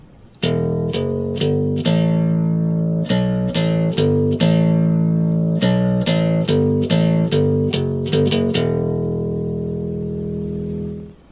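A bass guitar riff of plucked notes in a syncopated pattern with short pauses, ending on a sustained note that fades out.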